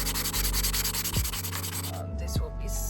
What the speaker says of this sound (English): Since our sander broke, I'm gonna start by sanding it by hand.